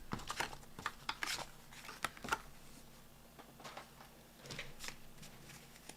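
Handmade paper cards shuffled and pulled from a pile, a string of soft papery flicks and taps, faint and close, with no voices.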